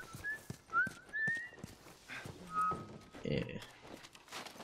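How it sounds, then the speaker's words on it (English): A video game character whistles a short, wavering tune in bursts, with low speech and soft footsteps around it, in The Last of Us. "why are you whistling?"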